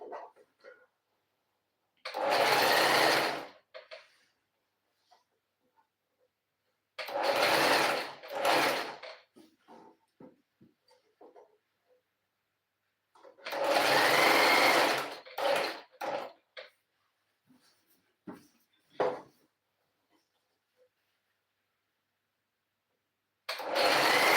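A sewing machine stitches in a handmade craft session, running in several whirring bursts of a second or two with short stops between them and quiet pauses in between, close and clear with no talking.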